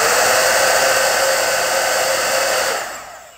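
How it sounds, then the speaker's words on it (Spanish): Hot air hair dryer brush running at its high speed setting, a loud, steady whooshing hiss that winds down at the end as it switches off. "Y ahora voy a utilizar el cepillo secador y creo que voy a utilizar la velocidad más fuerte."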